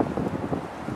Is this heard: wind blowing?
yes